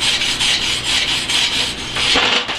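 Brown slag gets scrubbed from flux core weld root passes with a wire brush, a loud, close, bristly rasping in repeated back-and-forth strokes, with no talking.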